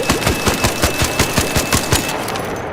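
Rapid automatic fire from the Bettina rifle in a video game, about fifteen evenly spaced loud shots in quick rhythm, close and alone, ending abruptly.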